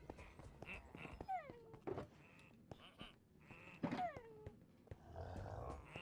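A dog in Minecraft Bedrock Edition gives a few short whines and yelps, moderately close, scattered over a soft background of game sounds.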